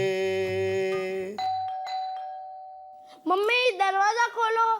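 A doorbell chimes at a family home's front door, a sustained electronic ding-dong tone ringing clearly for about three seconds, followed by a voice speaking.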